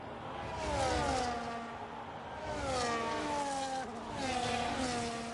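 Racing cars in a sim racing game at the Netherlands round roar past in waves, engines rising and falling in pitch as they pass close by, about three passes in quick succession.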